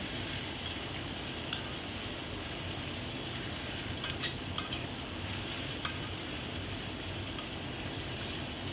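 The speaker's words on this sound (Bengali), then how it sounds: "এরপরে আমি শাকগুলোকে দিয়ে দিলাম, দিয়ে আবারও খুন্তির সাহায্যে সমস্ত কিছু মিশিয়ে নিচ্ছি।" Drumstick leaves frying with turmeric in a pan, mixed with a spatula: a steady close sizzle runs throughout, with occasional light scrapes and taps of the spatula, no voices.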